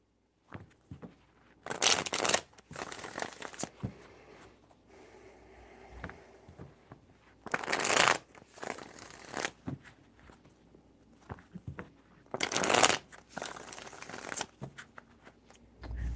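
Tarot cards shuffled in three bursts, each a loud riffling flutter lasting about two seconds, separated by quieter handling and soft tapping of the deck.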